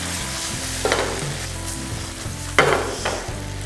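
Paneer noodles tossed in sauce in a hot pan give a steady close sizzle, with a few louder scraping and clattering stirs over the frying hiss.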